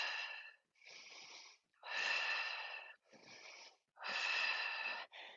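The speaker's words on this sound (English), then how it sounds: "Deep full breaths." Deep, full breaths in a yoga class, a steady run of loud wheezy inhales and exhales close to the mic, each about a second long with short gaps between them.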